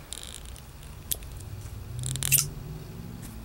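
A CRKT Natural 2 folding knife's blade flicks open with a sharp springy snap, then another louder metallic snap a moment later, close and crisp over quiet room tone.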